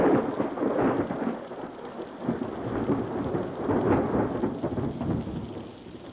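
A thunderstorm at a street festival brings low rolling thunder over steady, dense rainfall. The rumbles swell and fade in waves while the rain keeps pattering throughout.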